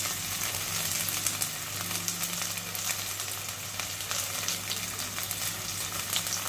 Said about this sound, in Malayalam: ഇത് വഴണ്ട് വരുന്നതിനായിട്ട് നമുക്ക് സ്വല്പം ഉപ്പിട്ട് കൊടുക്കാം.